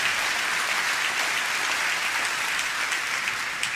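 A church congregation bursts into sustained applause for the Lord during a sermon, dense steady clapping from many hands filling the room without a break.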